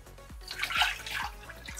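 Water pours into a pot for a sugar glaze, a close, fluttering splash with rhythmic gulping pulses as the stream fills the vessel.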